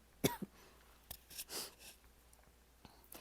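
A single person coughs faintly and briefly, followed by a few small throat and breath noises in an otherwise quiet room.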